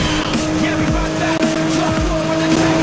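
A yellow Porsche 911 Turbo 3.0 in NFS Most Wanted, engine droning loudly with tire squeals during a police pursuit, a steady high revving tone continuing throughout, with a voice speaking over it.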